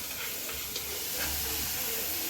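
Green chillies and garlic hit a hot pan for a Kerala prawn roast and are stirred, giving a steady close hiss and sizzle with faint scraping, no talking.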